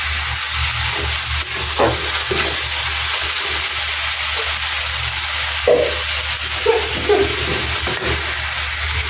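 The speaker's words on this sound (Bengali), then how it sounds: "আমার শুক্তিটা ভাজা হয়ে গেছে" Dried fish fries in a pan with onion and green chillies, giving a loud, continuous sizzle. Occasional clinks and scrapes of stirring sound close by.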